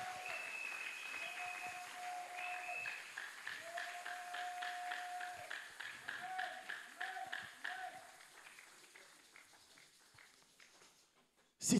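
Church congregation applauding in a steady ripple of claps that gradually fades, with sustained organ or keyboard notes and a voice singing or calling over the clapping.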